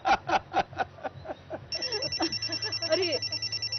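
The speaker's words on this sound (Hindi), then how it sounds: "अरे नरमीन का फोन है" An indoor telephone rings in a drama scene, first as a series of evenly spaced electronic trills, then as a faster, steady warbling ring, moderately loud and close.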